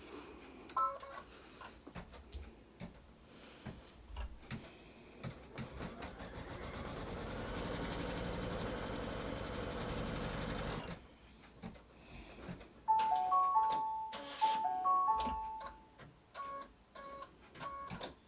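An embroidery machine runs an in-the-hoop placement stitch for a quilt block, a close, steady rapid needle chatter with brief pauses, a stretch of smoother whirring, then louder bursts with tonal beeps near the end.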